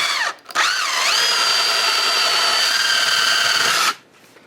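A power drill drives a screw into a 2x4 for a shower bench, a loud close whine that spins up with a rising pitch sweep, holds a steady tone for about three seconds, then cuts off abruptly.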